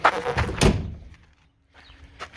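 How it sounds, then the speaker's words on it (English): Door of a used SpaceKap Compak slide-in truck cap swung shut, a single solid thunk after a burst of handling noise, then quiet with a faint rattle near the end. "Close the door."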